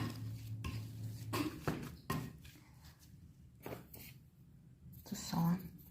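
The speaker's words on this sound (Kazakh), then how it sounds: "Картопты мыжып аламыз." Boiled potatoes being mashed in a pot, irregular thuds and metallic scrapes of a utensil against the pot, close and intermittent, with a voice speaking between the strokes.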